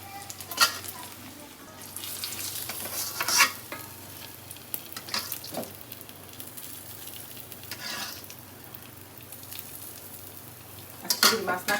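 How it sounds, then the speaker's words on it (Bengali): Fish coated in spice masala frying in a home kitchen pan, a continuous sizzle broken by repeated scraping and clattering bursts from stirring, close by, with faint background voices at times. "একটু মশলা করে ভাজি"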